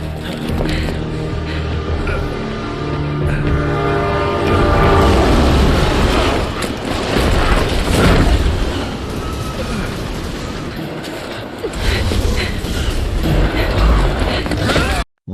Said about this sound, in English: Leon and Helena go after Simmons and jump onto his train